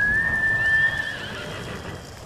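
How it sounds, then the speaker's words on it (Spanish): A horse neighs in the video game Ghost of Tsushima, a loud whinny that gradually trails off over steady background noise, with no talking. "Eres un buen caballo, Yami."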